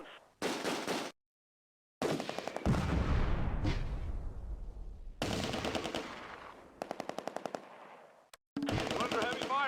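Heavy gunfire in the wargame Close Combat: A Bridge Too Far at Nijmegen Bridge, Valkhof Park: loud bursts of machine-gun fire and rattling volleys broken by brief silences, with a heavy boom and decaying rumble mid-way.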